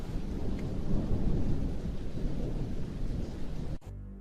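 Heavy rain pours down loudly and steadily under deep, continuous thunder rumbling, then cuts off abruptly just before the end.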